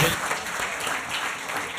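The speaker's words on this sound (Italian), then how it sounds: "facciamo un bel applauso ai genitori dei ragazzi che accompagnano sempre i loro figli agli allenamenti" An audience at a youth sports gathering applauds the players' parents with a steady wash of clapping. The applause is fairly loud and continuous, with faint voices mixed underneath.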